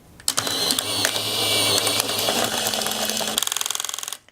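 A mechanical click followed by a whirring motor drive winding for a few seconds, ending in a rapid ratcheting series of clicks, close and fairly quiet: a Contax 645 medium-format film camera shutter and winding at the end of a 120 roll.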